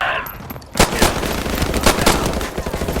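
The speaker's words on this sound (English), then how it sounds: "I mean, they definitely heard those gunshots" Gunfire in Call of Duty 4 Remastered, where the player rescues a farmer from interrogating Russian soldiers: loud, close rapid bursts of automatic fire, with repeated sharp cracks over a dense rumbling background of combat.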